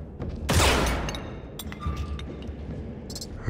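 A burst of gunfire blasting a lock open in the Escape from Butcher Bay video game: a loud rattling volley up front, then a fading roar with faint clinks and metallic debris.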